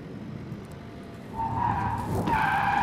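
Tires of a 2023 BYD Han skidding through a moose-test evasive maneuver at about 74 km/h, a rising squeal over broad road roar, growing louder and sharper toward the end, heard alone.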